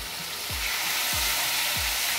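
Garlic and desi tomato sauté in a hot pan for toor dal aamti, a continuous soft sizzle with three evenly spaced scraping stirs across a short stretch.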